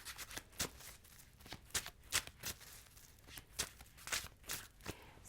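Rapid bursts of tarot cards riffling and slapping together, repeated shuffles in quick irregular succession, close and fairly quiet, with no voices.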